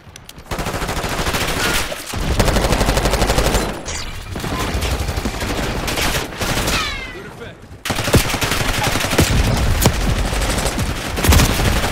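Sustained automatic gunfire in the mobile video game Black Ops 6, loud and continuous with brief pauses, mixed with in-game voice callouts.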